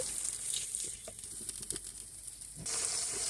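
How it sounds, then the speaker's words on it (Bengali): Spices and onion paste sautéing in a pan for hilsa fish curry make a steady, close sizzling hiss, with soft stirring scrapes and taps in the middle and the sizzle briefly growing brighter near the end. "মশলাগুলো ভালো করে কষিয়ে নেব"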